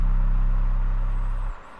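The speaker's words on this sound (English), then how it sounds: "That's the 808, DP Beats 808" A DP Beats 808 bass sample, a deep sustained booming tone held loud for about a second and a half before cutting off abruptly, leaving a faint hiss.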